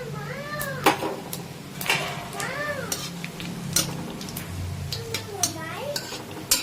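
Cumin, bay leaf, dry chili, cinnamon and cardamom sizzle softly in hot oil with scattered clinks and sharp ticks. Chirping, meow-like squeaks come and go on top.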